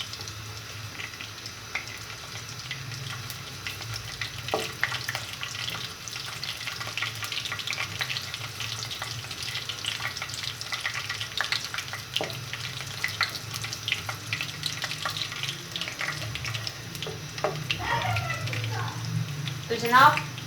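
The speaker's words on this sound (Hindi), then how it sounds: "इसे हम अच्छे तरीके से हिलाते हैं।" Ingredients for aloo shimla mirch fry in hot oil while being stirred, giving a steady close sizzle with occasional scrapes of a spoon against the pan, as someone speaks over it.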